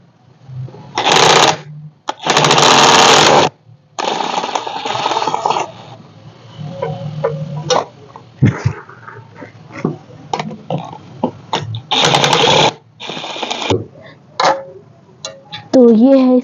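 A 14 mm spanner works loose the exhaust manifold bolts on a Honda Accord engine being dismantled, giving close, bursty metallic ratcheting and clicking in short repeated spells with quiet gaps between.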